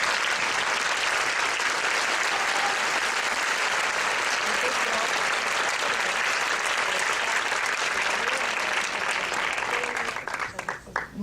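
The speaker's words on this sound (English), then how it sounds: "I think he deserves an applause." Sustained applause from an audience at a business presentation, dense and loud, holding steady for about ten seconds before thinning into a few scattered claps.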